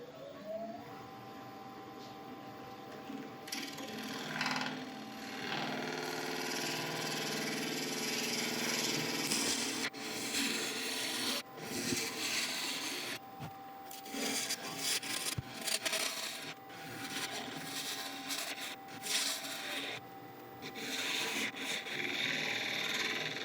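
A woodturning lathe shapes a boxwood box, gouge cutting steadily against the spinning wood with a continuous rough shaving and rubbing sound, close and fairly loud, shifting in intensity as the tool moves across the surface.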